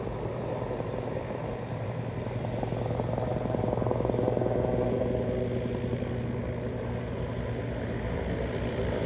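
A propeller seaplane drones across Victoria harbour in British Columbia, a steady engine hum with a low tonal buzz that swells slightly midway, heard at a moderate distance with no talking.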